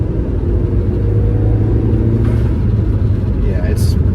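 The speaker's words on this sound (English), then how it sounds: "you can like really hear that blow-off valve once it gets up to" A car with a loud factory blow-off valve accelerates with a steady, heavy engine rumble, while someone talks over the drive and short hissy bursts cut through near the end.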